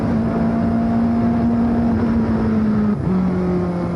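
A racing car accelerating hard on the Monaco street circuit, its engine note holding a loud sustained drone, then dipping briefly at a gear change before climbing again, close and continuous with no talk.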